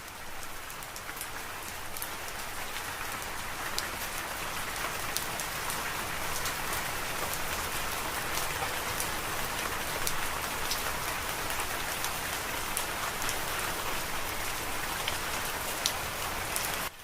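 Steady rain falls continuously, a dense even hiss of drops striking surfaces that holds at a constant level throughout, with no voices.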